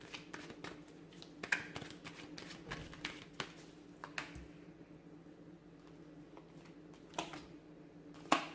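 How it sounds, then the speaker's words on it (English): Tarot cards are shuffled close by and quietly, with soft irregular riffling and tapping. Occasional sharper clicks sound over a low background hum. "I'm going to give the cards a shuffle"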